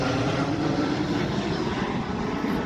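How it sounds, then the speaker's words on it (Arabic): An airplane near an airport produces a steady, loud, broadband engine roar that fills the whole stretch without pause. "راكم تسمعوا في الطيارة"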